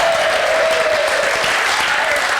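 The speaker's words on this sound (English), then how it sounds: "Your prompted thunderous applause." Audience applause following a silk-to-egg magic trick, a dense steady wash of clapping at full volume throughout, close and continuous with no talking over it.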